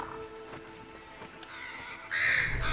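A bird caws in the video game Moss, a harsh rasping call rising near the end over a busy ambient game background.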